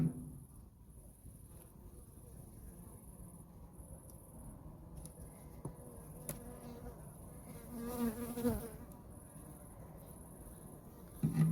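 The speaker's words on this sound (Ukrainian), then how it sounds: "Ось така кількість цього боку бджіл." Honey bees buzzing on a brood frame pulled from a nucleus hive, a dense, steady drone of many insects close by, fairly quiet overall with slight swells, and no voices.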